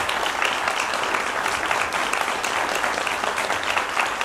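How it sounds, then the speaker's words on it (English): An audience breaks into applause at a music session where Brahms is being played, a dense, steady wash of clapping that holds at an even level from start to finish. "A little applause, I think."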